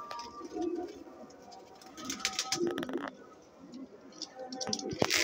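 Sialkoti pigeon chicks cooing softly in a loft, low murmuring coos under rustling and faint movement noises, with scattered sharper clicks and a louder burst near the middle.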